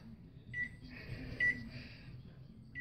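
A microwave oven gives a few short, quiet electronic beeps, spaced about a second apart, as the cook time is keyed in, with a low hum underneath.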